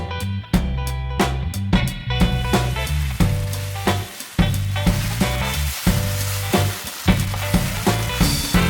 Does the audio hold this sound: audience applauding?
no